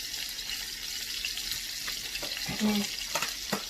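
Fresh rosemary sizzling in a hot pan beside a steak gives a steady, close frying hiss with a few brief stirring knocks near the end.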